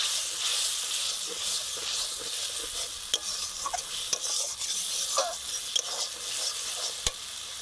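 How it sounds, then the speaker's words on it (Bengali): A spice paste loosened with a little water is stirred and sautéed in a pan, producing a constant bright sizzle and hiss with occasional sharp clicks of the spoon against the pan, and no voices. "জল দিয়ে মশলাটা কষানো কিন্তু খুব ভালো হয়। এই জল দিয়ে মশলাটা আমি কষে নেব।"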